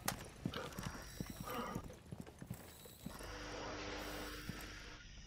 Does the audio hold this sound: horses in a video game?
yes